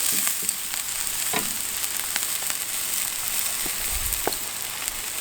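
Chopped onions browning in a pan over an outdoor firepit, a steady close sizzle with occasional crackles and light scraping stirs, no voices.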